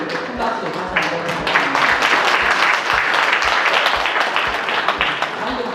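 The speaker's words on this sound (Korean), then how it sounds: "큰 박수 다시 한번" Steady, dense applause from an audience at the opening ceremony of the Busan Art Association's 80th anniversary exhibition, filling the whole stretch with even clapping and a faint rhythmic thump underneath.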